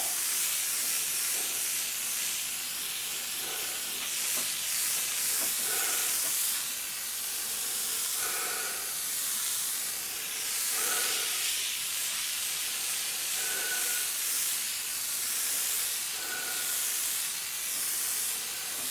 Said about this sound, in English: And I didn't clean my airbrush gun good since the last time I used it.